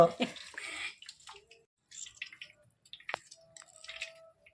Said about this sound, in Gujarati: આને દબાવી દેવાની હમણાં આપણે પાણી હોય એ નીકળી જાય એ રીતે આને દબાવી દેવાની છે